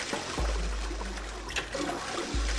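A toilet flushes in the Zero Escape video game with a rush of water and a low gurgling swirl, close and steady, with trickling water running through it.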